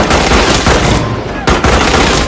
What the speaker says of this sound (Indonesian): Hingga terjadilah pertempuran.